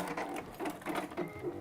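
A sewing machine runs a triple stitch in quick stitching bursts, each a few rapid mechanical clicks, quiet and close, with no voice.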